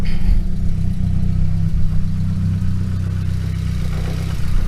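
Nissan SR20DET engine running right after being cranked, with rattling heard: a loud, steady low idle drone that holds throughout with no voices.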